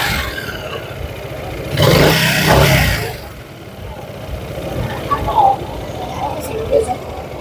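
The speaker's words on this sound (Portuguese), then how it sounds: "Olha o barulhinho do motor dela." A Zontes E350 scooter's engine runs close by, rising into a loud rev burst for about a second before settling back to a steady lower idle.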